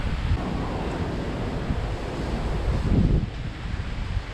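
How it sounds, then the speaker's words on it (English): Strong wind from Hurricane Ian gusts steadily across the mic at a Walt Disney World resort, a dense roar of buffeting that swells briefly louder near the end. "It's quite windy now."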